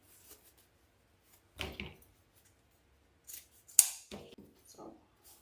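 Scissors snip through the ends of wreath ribbon to cut a dovetail: a few crisp, close cuts in separate bursts with quiet pauses between them.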